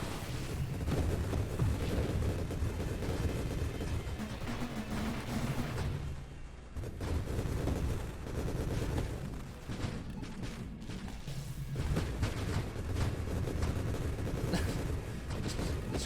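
Explosions in the space shooter Nova Drift crowd a dense, continuous barrage of booms and crackling blasts over a low rumble. There is a short lull in the middle before the barrage resumes at full intensity.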